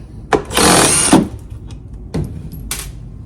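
A gas tank is unbolted from a STIHL BR450 leaf blower, giving a near, loud burst of a power driver spinning out a screw, with clicks and handling knocks of tool on plastic before and after it.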